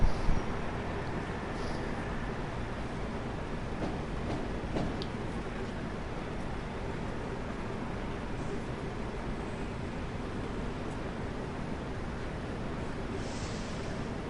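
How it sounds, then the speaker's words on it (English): A BR heavy freight shunter locomotive in Train Sim World runs steadily, a continuous low engine drone and rumble holding at an even level throughout with no talk over it. "Do like this train, it's a fun little train. It's a shunter really, but it's very cool."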